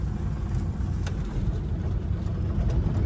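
A four-wheeler car engine runs low and steady while driving, a soft continuous rumble with faint road noise and no talking.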